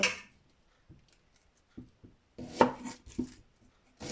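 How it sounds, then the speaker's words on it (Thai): A knife chops shallots on a cutting board in a few sharp, irregular strikes, close by and with no voices. "นี่หั่นหอมใส่"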